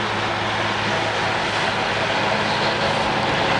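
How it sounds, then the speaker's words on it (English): Massey Ferguson tractor working in grassland with a front-mounted mower, a steady broad engine roar and whirring hiss that stays level and fairly close, no talk. "Massey Ferguson on the front, and this time a straightforward mower at work."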